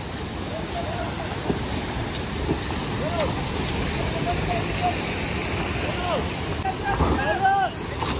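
Floodwater from an overflowing roadside drain rushes steadily at dusk, a broad, loud roar that fills the whole scene. Wind buffets the microphone, and people talk faintly under the constant torrent.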